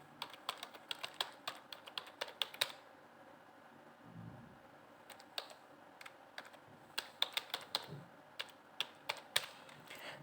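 Typing on a computer keyboard while filling an online form: quick bursts of close, crisp key clicks with short pauses between, quiet and without talk.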